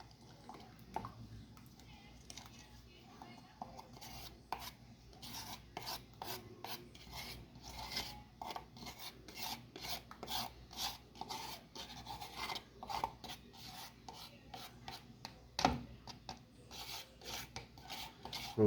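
Plaster mixture is scraped and pushed into a vase mold, giving quiet repeated rasping strokes and soft wet knocks in an uneven rhythm, faint and close, with occasional voice between.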